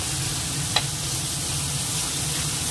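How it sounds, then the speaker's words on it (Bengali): Onion paste fries in a pan with a steady, close sizzle, constant crackling hiss and one small clink near the start, with no talking. "এটা খুব ভালো করে ভাজতে হবে যাতে কাঁচা গন্ধ না থাকে"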